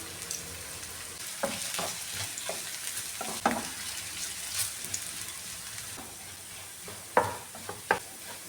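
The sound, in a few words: ginger slices frying in oil on low flame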